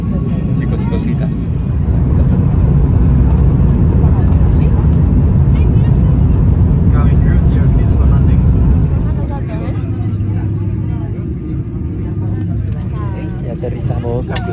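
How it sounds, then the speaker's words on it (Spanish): Steady, loud low roar of an airplane cabin during the landing approach into New York, a constant broadband drone throughout with a slight dip partway, while people talk quietly over it. "Estamos 15 minutos para el aterrizaje."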